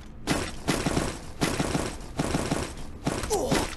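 Bursts of automatic rifle fire from a SCAR in the mobile shooter Free Fire, several rapid volleys in a row, loud and close, with brief gaps between them.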